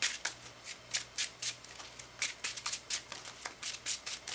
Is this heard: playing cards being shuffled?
yes